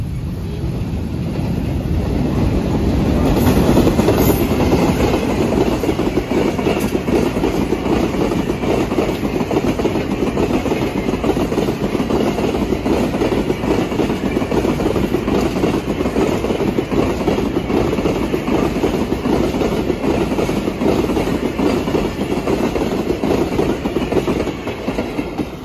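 A slow freight train rolls past a railway crossing close by, its wagons giving a continuous loud rumble and rhythmic clatter of wheels on rails throughout, with no talk.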